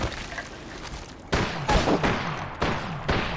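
Gunfire in the Apex Legends video game: bursts of rapid automatic shots crack out in a few loud clusters over a quieter background of game noise.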